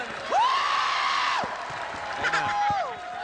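A television variety show studio audience whoops and cheers, with sweeping voiced shouts and crowd noise mixed with a host's speech.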